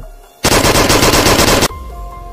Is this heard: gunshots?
yes